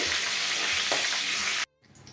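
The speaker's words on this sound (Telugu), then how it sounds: "ఒక రెమ్మ కరివేపాకుని కూడా వేసుకొని ఒక నిమిషం పాటు ఆయిల్లో ఫ్రై చేసుకోవాలండి" Crushed garlic and curry leaves sizzle in hot oil for a dry fish curry, a steady bright crackle that cuts off abruptly near the end, leaving near silence with a faint rustle.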